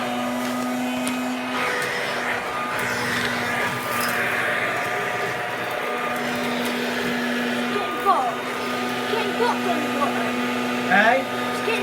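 A Hoover Dustette model 100 handheld vacuum cleaner runs steadily with a loud, constant motor whine and hum, while brief voices and small handling sounds come through near the end.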